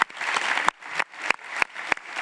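Applause from an audience at a high-level forum session in Tokyo, a continuous wash of clapping punctuated by several loud, sharp individual claps close to the microphone.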